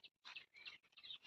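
Several quick, high, thin chirps from magpie-robin chicks in a clay pot nest, coming in short bursts with tiny gaps, close and fairly soft.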